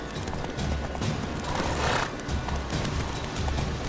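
A horse gallops in the video game Witcher 3, steady loud hoofbeats with a whinny rising in the middle, heard alone without talk.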